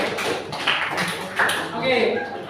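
A classroom of students applauds the final group, scattered light clapping and taps in uneven bursts mixed with voices.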